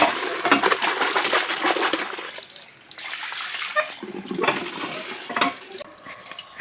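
Water gushes from a tap in a village setting, a close, splashing flow that rises and falls as it fills a container.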